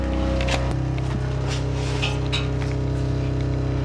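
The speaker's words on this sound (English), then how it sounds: "And there's my air compressor." An electric air compressor plugged into a car runs with a steady droning motor hum and rhythmic pulsing, loud and close throughout with no talk.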